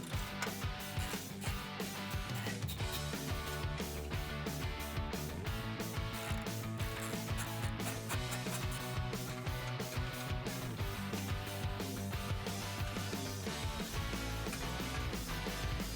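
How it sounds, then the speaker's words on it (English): Ratchet with a 16 mm socket removing bolts from the front of a Jeep Wrangler JL, rapid continuous clicking close up and steady for the whole stretch, with no talk. "next we're going to take off this metal shield using a 16 millimeter socket."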